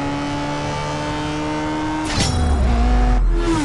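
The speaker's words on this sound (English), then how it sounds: "Listen to that engine, though." A car engine in the CSR 2 drag-racing game revs hard and rising, shifts gear abruptly, then roars on with a deeper, louder tone and another quick shift near the end. It is close and continuous, with no talking.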